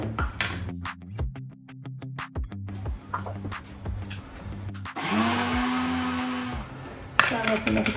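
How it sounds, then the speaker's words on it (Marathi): Kitchen mixer grinder whirring through green chutney masala in bursts, motor pulsing on and off with short pauses, then a longer steady grinding run before stopping, loud and close. "ग्रायंड करून घेता आनी मागीर परत ग्रायंड करता की एक मिक्सर भरलो मातसो"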